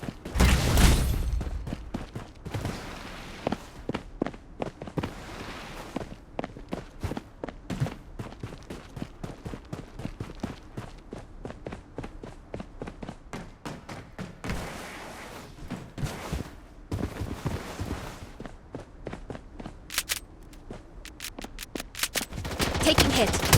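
Rapid Glock pistol shots in the mobile shooter game Blood Strike, fired in quick bursts and repeated volleys throughout, mixed with footsteps and thuds from the game.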